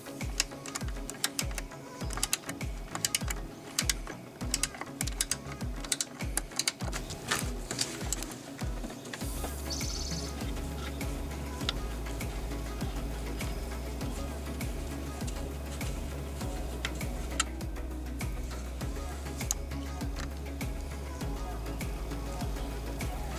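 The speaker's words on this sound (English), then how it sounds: "Here I'm using a ratcheted box wrench." A ratcheting box wrench loosening the nuts on a Land Rover Discovery 1 brake master cylinder, a rapid close clicking that comes in bursts at first, then runs as a steady, even ratchet.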